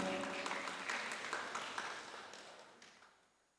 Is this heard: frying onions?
no